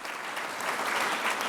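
Audience applause fills a hall at the 2013 New Jersey Hall of Fame induction, a dense, steady clatter of many hands that holds loud and even throughout, with no break.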